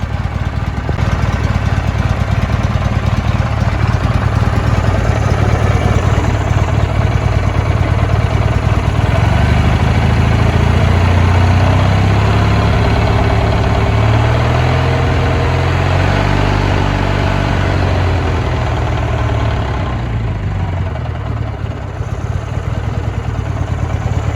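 The engine of an Allis Chalmers 616 Special garden tractor runs steadily and loudly close by, a continuous rough clattering drone with slight shifts in pitch and no talk.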